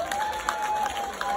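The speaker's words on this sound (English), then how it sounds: "please clap for Wike, I beg." A crowd claps briefly for Wike, a short burst of scattered hand claps with a thin steady tone running through it.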